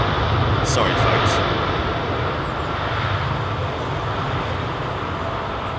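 A jet airliner takes off at London Heathrow Airport, its engines producing a loud, broad, sustained roar close by that stays steady throughout, with faint traffic-like rumble beneath.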